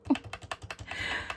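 Rapid typing on a computer keyboard while entering money amounts in a bank-building game, a quick run of close, crisp key clicks with a denser burst near the end, no talking.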